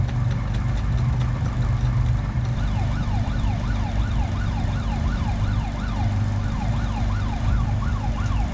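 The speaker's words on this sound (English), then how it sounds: "Anchor alarm going off. It's telling me it's working." A boat's anchor alarm sounds as a repeating electronic warble that sweeps up and down in pitch, steady and fairly loud over a low engine rumble.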